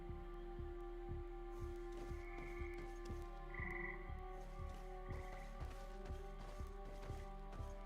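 Toad in the video game GreedFall croaking in a regular pulsing rhythm, about two low croaks per second, over a steady ambient hum with faint higher tones drifting in.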